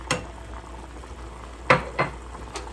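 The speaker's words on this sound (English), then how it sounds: "Everything is boiling, so give it a quick stir just to dissolve everything." Water with turmeric for yellow rice bubbling in a pot, with a few distinct pops and bursts over a steady low simmer, heard close up.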